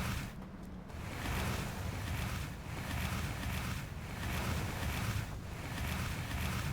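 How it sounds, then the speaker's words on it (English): Wooden raft dragging and scraping across sand in the video game Outer Wilds, a steady rough grinding wash with waves that swell and ease every second or so, heard alone without talk. "the sound of the scraping sands on the bottom of the raft"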